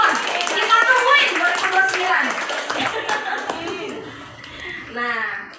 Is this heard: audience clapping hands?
yes